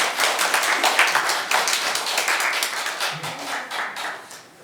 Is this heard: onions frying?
no